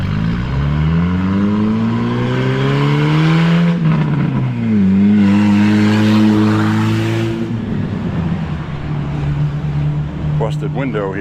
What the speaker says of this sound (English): Car with no muffler.